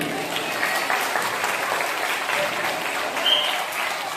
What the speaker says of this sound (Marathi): सर्व विद्यार्थ्यांनी जोरदार टाळ्या वाजवायच्या.